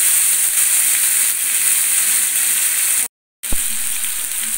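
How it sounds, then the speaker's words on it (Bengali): Ginger, green chili and tomato paste hit hot oil with fried pointed gourd, giving a steady close sizzle and hiss that cuts out briefly before resuming. "এইবার পটলের মধ্যে আদা এবং কাঁচা লঙ্কার পেস্ট, টমেটোর পেস্ট একসঙ্গে দিয়ে দেবো।"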